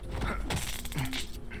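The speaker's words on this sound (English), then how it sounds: "Let's open that door." Mechanical door mechanism opening in the video game Watch Dogs (Bad Blood DLC), a close run of creaking, grinding and clicking parts with a brief rising whine, loud and steady for under two seconds with no talk.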